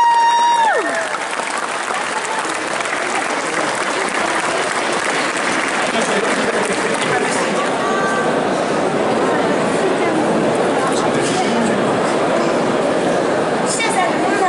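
Loud, sustained audience applause for a cosplayer at a cosplay contest, a thick wash of clapping and crowd noise that continues unbroken from start to finish.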